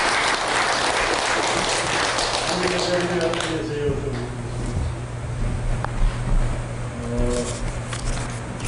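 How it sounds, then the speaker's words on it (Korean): An audience claps after a Zen master's Sunday dharma talk, the applause fading after a few seconds into a low hum with a voice speaking softly, then a faint patter returning near the end. "좋은 법문을 해주신 큰 선생님께 큰 박수 부탁드립니다"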